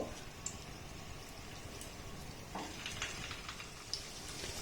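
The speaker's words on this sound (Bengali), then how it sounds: "আমি যতগুলো বানিয়েছি মানে এই যে মিষ্টিগুলো দেখতে পাচ্ছেন দুবার ধরে আমি ভেজে নেব" Gulab jamun, soft sweets made with semolina, frying in hot oil in a wok, giving a steady, fairly quiet bubbling sizzle with a brief louder stir partway through and no talking.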